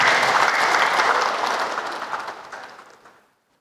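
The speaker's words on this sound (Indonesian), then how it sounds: "Aplaus untuk kita semua." An audience applauding together, a dense wash of clapping hands close by that holds steady and then tapers off to silence after about three seconds.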